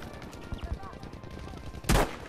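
Gunfire in the Battlefield V video game, a single loud sharp shot near the end after low rumbling game ambience and faint scattered noises.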